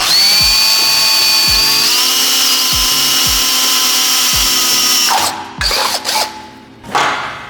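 A large bit is driven by hand through metal, giving a steady high mechanical whine with a regular series of low clicks, then turning choppy and intermittent near the end, close and loud.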